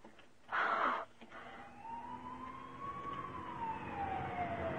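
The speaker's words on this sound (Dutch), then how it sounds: "Schakel die sirene uit." Police car siren in a Dutch radio drama, a rising and falling wail that sweeps up and slowly down at moderate distance, following a short loud burst of noise, with no talk over it.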